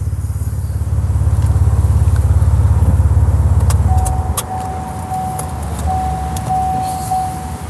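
A tuned Stage 1 Opel Insignia OPC Line V6 turbo idles close by with a deep, steady throbbing rumble that fades away midway, leaving a quieter background with light clicks and a faint high tone.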